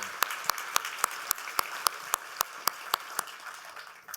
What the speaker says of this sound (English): A round of applause for Andrew and his team for supporting us